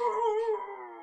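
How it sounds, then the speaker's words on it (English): Zombie dogs howl in a Resident Evil 2 board game, a long wavering harmonic howl, loud and close, gliding slightly downward over about a second with no talk. "That sounds like two zombie dogs."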